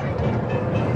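A small miniature train at Drayton Manor theme park rolls along its rails with a close, steady rumble and faint rhythmic clatter.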